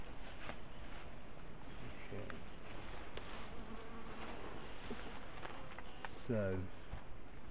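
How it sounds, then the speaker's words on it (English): Honeybees buzz steadily around an opened top bar hive being split and moved, a constant low drone with wind noise at the microphone and a few quiet voices talking in the background. "Quite a lot of bees."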